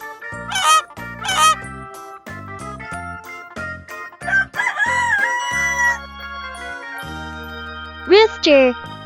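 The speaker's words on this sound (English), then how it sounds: "Rooster." A rooster crows in a children's farm animal sound clip, the calls mixed with tinkling bell-like tones and a bright, clean musical backing.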